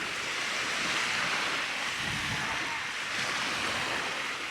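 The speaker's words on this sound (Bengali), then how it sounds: "মারাত্মক লেভেলের বাতাস।" Strong wind buffets the microphone over steady breaking sea waves on a Maldives beach, a continuous loud roar with no talking.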